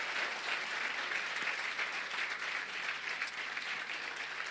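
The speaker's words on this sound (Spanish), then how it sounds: "Fuerte el aplauso" Steady, fairly distant applause from a congress audience in a large hall, even and continuous throughout with a faint low hum beneath it and no speech.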